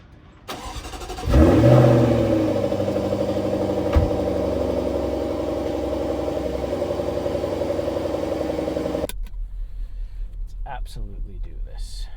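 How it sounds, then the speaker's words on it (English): A 2024 Jaguar F-Type R75 V8 starts and settles into a loud, deep, rumbling drone close by, holding steady for several seconds before cutting off abruptly, followed by faint clicks and quieter sounds. "Let me see if I can get you to hear that absolutely wonderful V8."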